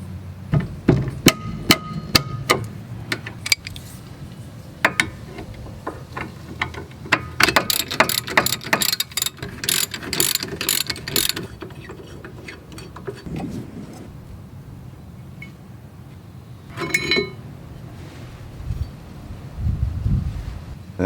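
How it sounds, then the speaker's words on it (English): Breaker bar with a socket cracking loose and turning 14mm rear brake caliper bracket bolts on a Subaru Forester, heard as close, irregular ratcheting clicks and metallic ticks in bursts, with quieter gaps and a low rumble near the end. "I'm going to use a breaker bar for this one because it's a little bit harder."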